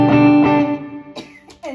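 Guitar through a multi-effects pedal and looper with delay added; two strummed chords ring and repeat as echoes, then sharper picked strums and a sliding note come near the end.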